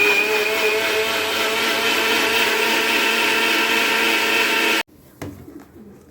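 A kitchen blender grinds strawberries with sugar and milk for a milkshake. It runs as a loud, steady whir for almost five seconds, then cuts off abruptly, leaving faint rattles.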